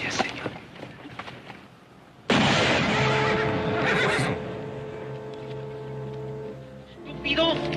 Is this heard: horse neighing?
yes